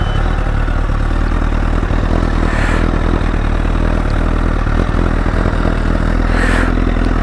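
Honda CBR1000RR Fireblade SC59 superbike with a Leo Vince exhaust idling steadily at close range, a loud continuous low engine rumble with light mechanical clatter and two brief rising blips.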